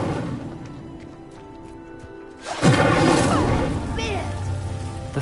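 Fiery spell effect in the Hogwarts Legacy game, an Incendio cast setting a pyre alight: a sudden loud whooshing burst midway that settles into a sustained roaring crackle over low ambient game sound.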